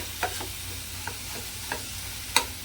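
Soft, sparse taps and scrapes come from roasted tomato being lightly mashed in a kadhai. Four faint strokes are spread out over a quiet background.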